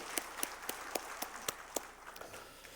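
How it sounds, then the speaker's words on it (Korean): A congregation at a Sunday church service claps in a slow, regular rhythm, about eight evenly spaced sharp claps that loosen into scattered softer ones, fairly quiet and reverberant. "감사 영광의 박수 돌려드립시다."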